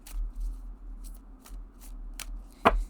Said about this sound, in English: you can do the rifle shuffle. You can do the overhand shuffle